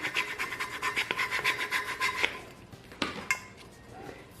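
A squeegee rubs firmly down a vinyl tumbler decal in a quick run of rhythmic scraping strokes, close and fairly loud, then a few slower, separate rubs trail off at the end.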